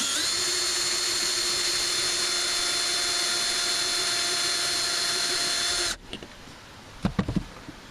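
An EICO 147A signal tracer's metal chassis is drilled to fit BNC jacks, with a loud, steady high-pitched drill whine running for about six seconds before it stops, followed by a few faint knocks.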